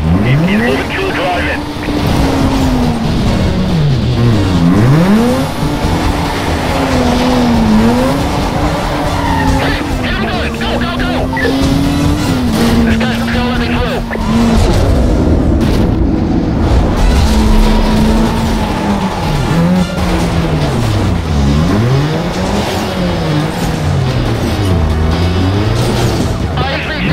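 Car racing in Need for Speed Most Wanted gameplay, with a loud continuous engine whine rising and falling through gear shifts, mixed with repeated tire squeals and skids, steady throughout without pause.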